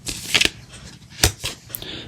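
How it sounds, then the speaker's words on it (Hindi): Moon Witch oracle cards shuffled and drawn, a few quick papery riffles and slaps in short bursts, close and fairly loud. "अब मैं आपके लिए एंजल कार्ड्स निकाल देता हूँ।"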